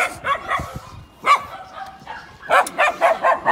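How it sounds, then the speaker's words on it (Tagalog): Several dogs barking in a subdivision neighbourhood during an early morning walk, a string of sharp, fairly close barks in short bursts with brief pauses between them, and no talk over them. "Ang ingin ng mga aso,"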